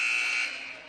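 A loud, sustained electronic buzzer blares in a high school boys basketball gym at the end of the third quarter, steady at first and then easing slightly as it holds for about a second.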